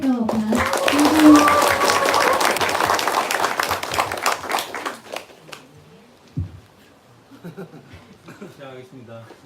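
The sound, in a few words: audience applause at a company workshop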